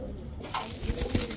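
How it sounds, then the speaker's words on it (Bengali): Domestic pigeons, among them a female lavender racer, give a few low throaty coos nearby, short and close, with no talk. "এখন দেখাবো ল্যাভেন্ডার রেসার একটা মাদি কবুতর"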